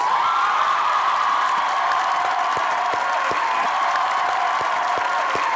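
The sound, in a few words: audience applause welcoming actress Kiran Malik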